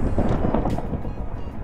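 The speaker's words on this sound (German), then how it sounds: "Hat's hier gerade gewittert?" Low rumbling thunder in the Galactic Science Minecraft modpack, a steady broad roll that stays loud and continuous throughout, with no talk over it.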